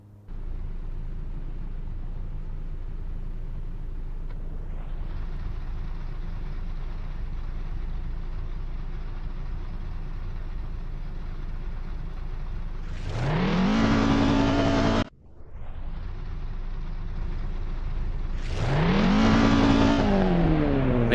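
A race car engine on an outlap in Assetto Corsa at Barcelona City Circuit reverse layout, droning steadily before rising sharply in two revving pulls, cut by a brief gear-change drop between them.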